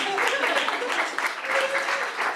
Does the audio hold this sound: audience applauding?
yes